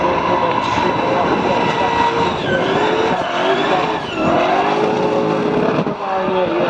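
A pro-class drift car at a Polish drifting championship qualifying round in Poznań roars continuously through a run, engine loud and strained with tyre noise, while a commentator talks over it.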